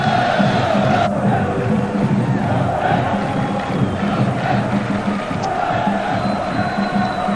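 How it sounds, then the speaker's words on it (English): A loud, noisy stadium crowd roars steadily throughout at a 1991 Cup Winners' Cup quarter-final football match between Montpellier and Manchester United, a dense, continuous wall of cheering with occasional louder swells. "playing in front of a crowd as noisy as this"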